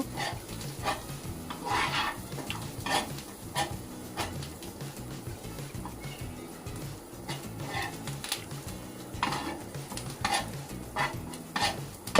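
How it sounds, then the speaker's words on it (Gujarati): Chutney with added coriander leaves is mixed in a pan for vada pav, producing repeated soft scraping and clinking strokes at an irregular rhythm, close but fairly quiet, with no speech. "હવે તેમાં થોડી ધાણા ભાજી નાખી બધું મિક્સ કરી લેશું"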